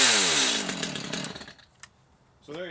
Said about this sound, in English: it's a great saw, and runs good